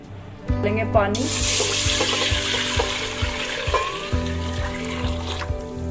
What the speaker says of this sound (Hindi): पानी 2 से 3 लीटर डालना है।